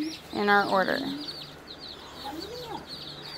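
Newly arrived baby Black Australorp chicks from Meyer Hatchery keep up a steady chorus of thin, high peeps. Someone speaks briefly over them at the start, and the faint chirping carries on alone afterward.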